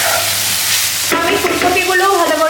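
Cauliflower and potatoes fry with spices in a hot pan, making a loud, close, continuous sizzle with scraping stirring strokes throughout.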